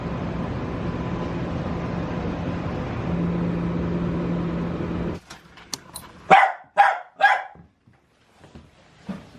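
In a dog and cat cafe in Osaka, Japan, a steady engine-like drone cuts off, then a dog barks several times in quick bursts nearby, followed by quieter scattered noises.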